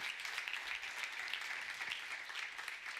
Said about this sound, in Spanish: denle ese aplauso con fuerza, con ganas al Señor